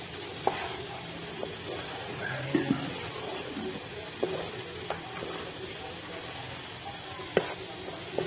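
Egg halwa mixture frying in a pan over a medium flame, giving a steady low sizzle with occasional sharp clicks and scrapes of stirring throughout, no voices.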